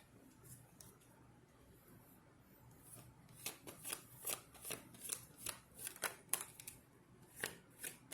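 Tarot cards being shuffled, a quiet riffling at first that turns into a steady run of crisp, evenly spaced card flicks and slaps, fairly close and with no talking over it.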